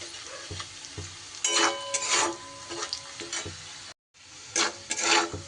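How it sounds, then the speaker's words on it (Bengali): Sliced onions with salt fry over a low gas flame in a pan, a steady soft sizzle broken by repeated close scraping strokes of a spatula, with a brief dropout in the middle. "গ্যাসটা কমিয়ে রেখেই আমি ভাজছি, কারণ বাড়িয়ে দিয়ে ভাজলে কিন্তু পেঁয়াজটা খুব তাড়াতাড়ি লাল হয়ে যাবে আর পুড়ে যাবে।"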